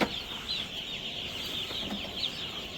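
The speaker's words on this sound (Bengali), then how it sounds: "এই যে দেখেন, এসব হলো মুরগি" Chickens cluck and murmur continuously nearby in a poultry shed, several birds overlapping in a busy, steady flock chatter with no talking.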